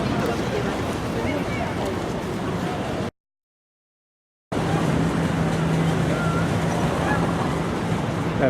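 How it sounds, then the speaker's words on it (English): Amphibious vehicle on the Vltava river in Prague, heard from Slovanský Ostrov Island as a steady engine drone mixed with water and wind noise, broken by a short silent gap, with a low hum on the far side. "Amphibious vehicle."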